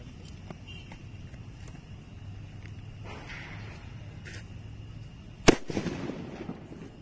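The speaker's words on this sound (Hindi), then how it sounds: "अब इस 555 बम को जला के देखते हैं बम कैसा जलता है।" A 555 firecracker bomb is lit outdoors during cracker testing; a faint fizzing fuse runs under low background noise before one sharp, loud bang near the end, followed by brief crackling debris.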